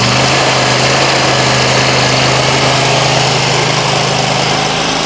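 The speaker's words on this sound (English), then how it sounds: "Start with the mowing." Gasoline lawn mower engine running steadily and close at a commercial property, a loud constant buzzing drone with no pauses.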